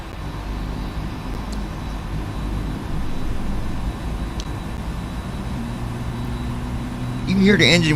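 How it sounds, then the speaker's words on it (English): Aircraft engines spooling up one after another in the Prepar3D flight simulator, a low, steady rumbling hum that swells partway through, with a voice breaking in near the end. "You can hear the engine when they're starting up like that right there"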